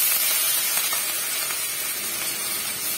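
Curry leaves sizzling in hot oil with cumin, a steady, loud broadband hiss and crackle of frying that holds evenly for a few seconds with no voices.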